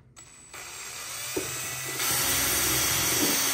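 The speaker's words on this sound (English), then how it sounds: "Actually, on the top one, I'm gonna drill a hole" A power drill runs up and bores a hole in a part for a homemade snow gun, the whine growing louder and brighter partway through, close and steady with no talk.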